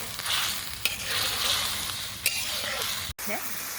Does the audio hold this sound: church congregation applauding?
no